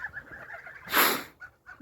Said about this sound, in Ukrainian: Тут два гергеля, чи як вони називаються, ці білих а то сіра велика. От такі от уже гусенята.